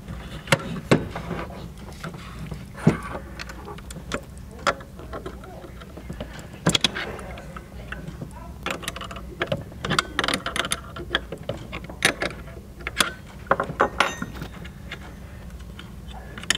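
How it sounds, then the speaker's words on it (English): A bit is swapped in a wood router while cutting dovetail pins with a Keller jig, giving close metallic clicks, clanks and ratcheting taps in irregular bursts over a low hum. "And I gotta make a bit change here in the router."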